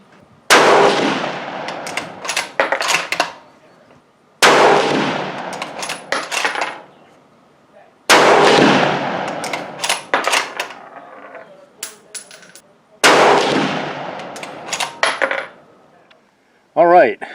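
Four separate loud shots from a Savage Axis II rifle fired at a target at the range, each a sharp crack with a decaying echo, spaced about four seconds apart.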